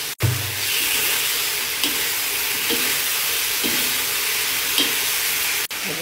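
Shrimp frying with oyster sauce, sugar and ketchup in a hot pan, a steady close sizzle with soft periodic scrapes of stirring, and no talking.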